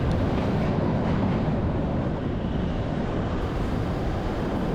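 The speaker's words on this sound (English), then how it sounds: "The Kalka-Shimla toy train was actually built in the late 1800s" The Kalka-Shimla toy train, a narrow-gauge line built in the late 1800s, runs on a mountain track, making a dense, steady rumble and rattle heard from on board with no pauses.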